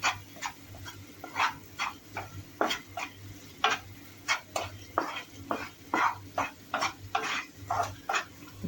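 Spicy usal masala with turmeric being sautéed in a pan, a spoon scraping and stirring in a steady rhythm of sharp, close strokes over a low hum, with a faint sizzle between them.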